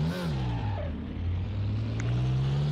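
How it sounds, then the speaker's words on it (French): Porsche 356 Coupé engine lapping the Brands Hatch Indy circuit: a steady, close droning rumble whose pitch sinks then climbs again as it pulls through a gear, with no talk. "nous voici dans cette Porsche 356 et nous sommes partis pour le premier tour."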